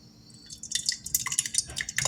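Hot homemade blackberry jam poured into a glass jar, with soft wet drips and thick liquid splatters coming in an irregular patter, close and fairly quiet.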